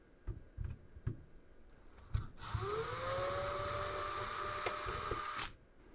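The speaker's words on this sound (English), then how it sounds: "In order to open the HP V1910, we're going to need to remove 7 screws." A small powered screwdriver whirs steadily for a few seconds while screws come out of an HP V1910 network switch chassis, preceded by several light clicks and taps on the metal case.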